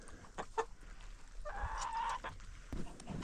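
Several barred rock chickens make soft, scattered clucks and short calls from nearby in a coop, with a longer squawk rising in the middle, against low background rustle and no talk.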